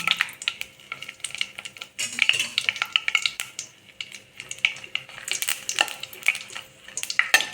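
Mustard seeds and dried chillies frying in sesame oil for tomato thokku crackle and sizzle, with irregular metal scraping and clinks from stirring in the pan.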